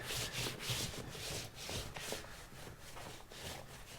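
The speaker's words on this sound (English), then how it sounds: "I'm trying to just rub it around a bit" Conditioner is rubbed into a leather jacket by hand, producing a soft, continuous swishing rub with gentle rhythmic strokes, quiet and close, with no talk.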